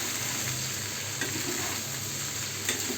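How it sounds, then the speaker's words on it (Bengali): Food being stirred and mixed into pasta in a pan over medium-low heat, a steady soft sizzle with faint scraping strokes throughout, no voices. "এবার আবার ওটা দিয়ে নাড়িয়ে দেবো সুন্দর করে, নেড়ে চেড়ে ওটা মিক্স করে দেবো।"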